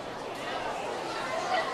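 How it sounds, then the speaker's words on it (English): A baseball crowd at a minor-league game between Vermont and Tri City gives off a low, steady, concerned murmur, a continuous diffuse babble of many distant voices with no single speaker standing out. "Crowd once again in a concerned murmur."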